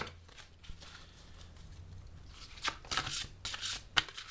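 Oracle cards being shuffled by hand to draw a single card, a run of soft papery riffles and slaps building toward the end, close and fairly quiet with no talk.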